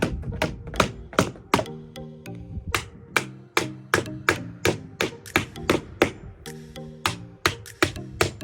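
Hammer blows drive nails into garage door weather trim, a loud close series of sharp taps and thunks in uneven bursts, with quick strikes grouped together and brief pauses between.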